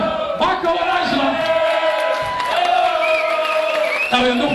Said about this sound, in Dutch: Applaus voor Marco en Angela.